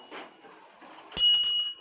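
A bell hanging on a string is jingled once, giving a sudden bright metallic ring that sustains and decays over about half a second after a faint, quiet lead-in.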